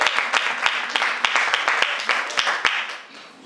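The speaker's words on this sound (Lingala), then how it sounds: "je crois que ça mérite des acclamations" An audience at a women-in-media event claps steadily, dense applause with distinct sharp claps that fades toward the end, recorded fairly close.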